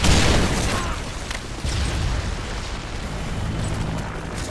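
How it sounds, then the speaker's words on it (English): A Predator missile strike in the Modern Warfare 3 video game lands as a loud, sustained explosive roar with a second surge partway through, rumbling on without pause. "Friendly Predator missile inbound."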